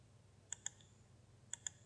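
Two quick pairs of computer keyboard clicks, faint and close, stand out in a quiet room with a low hum underneath.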